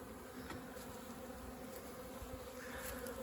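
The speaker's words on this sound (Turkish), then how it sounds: "Çok güzel bir yavru uçuşu var." Honeybees swarming outside the hive during a young-bee orientation flight on a mild winter day, a dense continuous buzzing hum close by, steady and fairly faint with no voices.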